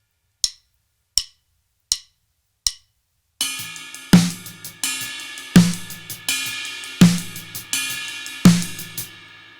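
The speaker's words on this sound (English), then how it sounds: "just the hands with the ride cymbal, hi-hat, and snare drum sound something like this." Paradiddle sticking played by hands alone on a drum kit: four sharp isolated taps, then a steady flowing pattern mixing ride cymbal wash, hi-hat ticks and snare cracks, with repeated accents, close and loud.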